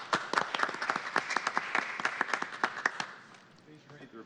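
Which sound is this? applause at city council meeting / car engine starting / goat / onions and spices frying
applause at city council meeting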